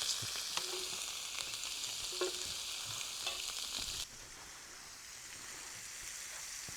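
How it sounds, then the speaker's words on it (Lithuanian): Burger meat patties fry in a pan with a steady, fairly quiet sizzle, with occasional stirring or scraping clicks and the frying noise dropping slightly partway through. "Mėsytė kepa"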